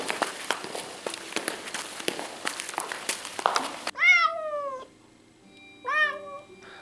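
A cat runs off with quick, soft footsteps, then gives two loud, drawn-out meows close by, one after the other, with a short pause between them.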